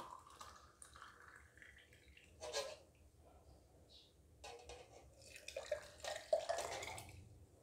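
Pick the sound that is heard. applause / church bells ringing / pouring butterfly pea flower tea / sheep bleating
pouring butterfly pea flower tea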